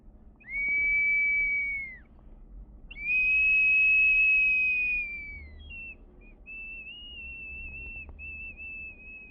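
A replica of an ancestral whistling wind instrument plays three sustained high whistled tones, the middle one longest and strongest, the last softer and wavering, alone against a quiet background.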